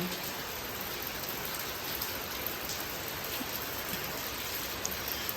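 Heavy rain falling steadily on a rainy morning, a dense continuous hiss of drops on surfaces, even and unbroken throughout with no voices.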